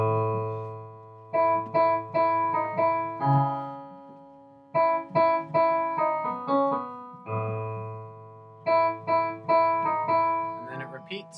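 A recorded pop tune plays alone with no talk, harmonic melodic phrases rising and pausing in repeated sections, moderately loud.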